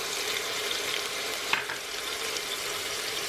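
Spices being stirred into a pan while cooking a turnip and spinach dish, with garlic, ginger, salt and chili pepper going in. A steady sizzle and frying hiss runs throughout, with one brief scrape of the spoon partway through.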